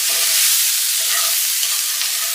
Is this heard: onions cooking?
yes